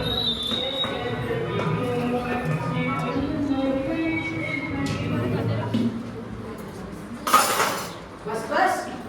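Metal pots and utensils clink and clatter as they are carried across a school stage during a play, with a sharper burst of clanking near the end, mostly under steady voices talking.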